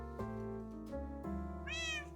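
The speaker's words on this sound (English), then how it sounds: "That was a good meow." A cat villager in a life-sim village game gives one short clear meow near the end, over looping game music and soft clicks.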